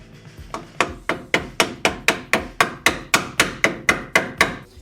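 A sledgehammer taps a brake installation tool during a brake overhaul on an S-10 truck, about fourteen sharp metallic knocks in a steady, even rhythm, close and loud with short ringing decays, no voices.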